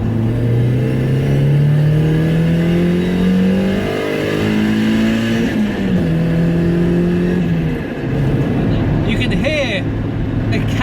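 A turbocharged Mazda MX-5 revs up steadily through the gears, pitch climbing then dropping at each shift, loud and close inside a bare, uncarpeted cabin with rattling noise.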